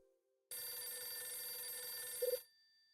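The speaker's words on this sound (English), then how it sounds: "The phone's ringing." A telephone rings in the Hotel Dusk: Room 215 video game with one sustained, fairly quiet electronic trill lasting about two seconds, ending with a quick bright flutter before it cuts off.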